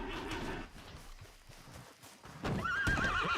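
Horse neighing in Red Dead Redemption 2, a loud whinny rising over game ambience near the end, with hoof clip-clops and rustling earlier, no voices.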